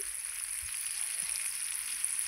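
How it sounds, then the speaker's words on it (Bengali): Taro and shrimp frying in a pan with salt and turmeric, a steady soft sizzle close by and fairly quiet, no voices. "দিয়ে নাড়াচাড়া করে ভালো করে এটাকে ভাজতে দেবো"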